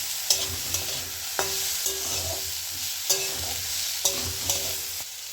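Brahmi greens and potatoes being stirred in a frying pan, a steady sizzle broken by several sharp scrapes and clacks of the utensil against the pan at irregular intervals, close and clear with no talking.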